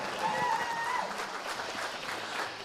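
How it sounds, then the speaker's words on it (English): A crowd at the BKFC 28 bare-knuckle fighting weigh-in event in New Mexico gives a round of applause, with moderately loud, sustained clapping and some crowd noise at a distance. "So give yourselves a round of applause."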